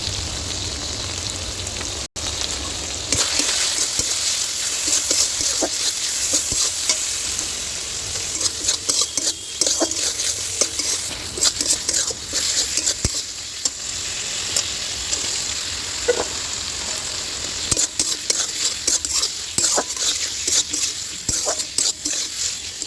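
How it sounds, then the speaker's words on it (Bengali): Tomatoes fry with a spice paste of green chilli, ginger, garlic, onion, cumin and turmeric in a pan, giving a steady close sizzle with scattered stirring scrapes and taps throughout, no voice over it. "টমেটো ভালো করে একটুখানি লবণ দিয়ে একটু ভালো করে ভেজে নিয়েছি"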